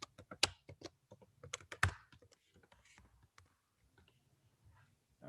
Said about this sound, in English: type in my information.